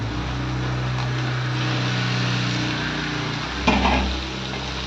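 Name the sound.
fried brinjal stirred into spices in a pan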